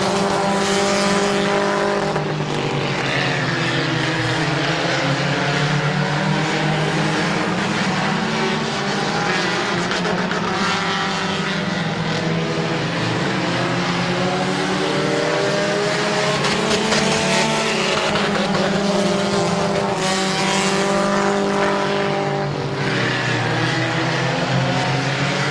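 Race cars circle Midvale Speedway, engines howling loud and continuous with repeated pitch sweeps as the leader slides sideways off turn four, the pack close and roaring nearby with almost no talk.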